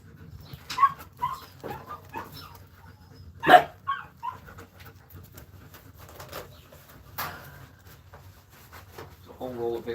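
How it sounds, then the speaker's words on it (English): A dog barks from upstairs in a house, several short separate barks at a distance, mixed with background chatter and faint household noise. "we'll hear Ryan upstairs barking instead of barking at her"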